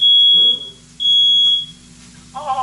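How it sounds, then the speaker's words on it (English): A home smoke detector sounds off during a kitchen cooking mishap, giving two long, loud, steady high-pitched electronic beeps separated by a pause, with faint background noise and a brief voice-like sound near the end. "I received a fire alarm from the smoke detector."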